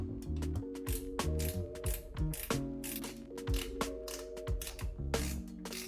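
A ratchet tightens the seat bolts on a HOVSCO HovGTRS Ultra 1500W moped-style e-bike, giving close, loud bursts of rapid clicking pawl strokes in an uneven rhythm with short pauses.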